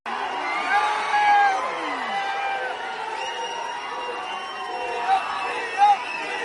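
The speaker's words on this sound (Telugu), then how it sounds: "చూసినరా, జై తెలంగాణ జై కేసీఆర్ సార్ అనుకుంటా ఉన్న జనంతో నందీనగర్ మొత్తం నిండిపోయినట్టే ఉన్నది కదా" A large crowd of party workers packs the streets of Nandinagar, chanting Jai Telangana, Jai KCR; a dense, steady hubbub of many voices with scattered shouts and cheers rising briefly near the end.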